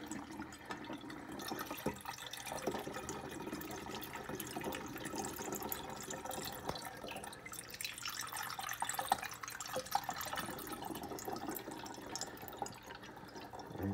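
Cherry juice streams and splashes into a container while a second quart is poured, a soft continuous liquid trickle and gurgle heard up close at a low level.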